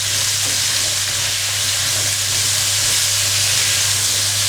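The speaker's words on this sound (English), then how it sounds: "And now I'm going to add my drained potatoes into this and just toss them around." Drained potatoes fry in a pan with green chilies, giving a loud, continuous sizzle and hiss as they are tossed, with no talking.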